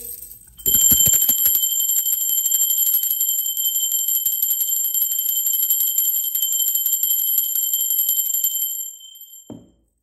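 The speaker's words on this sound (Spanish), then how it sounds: "Ahora sí va campana" A bell rings continuously in a sustained, bright metallic trill for several seconds, loud and close, then stops abruptly.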